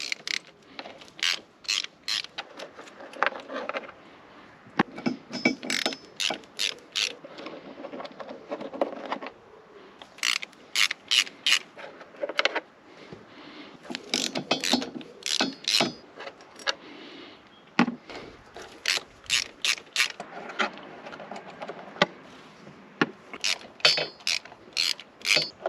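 Ratchet undoing T30 Torx fasteners on a Volvo V70 2.5T engine cover, repeated bursts of quick metallic clicking with short pauses between strokes, close and fairly clear.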